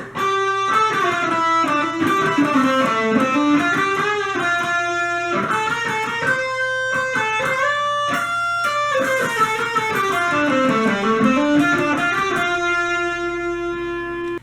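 An electric guitar plays the solo from a song alone, with clear, moderately driven single-note melodic lines and bends in steady phrases, a little slower than the original.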